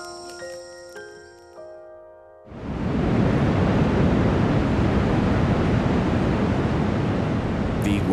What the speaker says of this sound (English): The Iguazu waterfalls were declared a World Heritage Site in the 1980s.